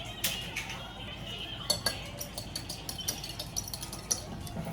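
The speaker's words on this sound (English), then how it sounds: "I'm going to beat 1 egg, and this is to seal our" A whisk clinks rapidly against a bowl while an egg is beaten for sealing lumpia rolls in a holiday kitchen, with sharp metallic taps at an uneven rhythm over low background noise.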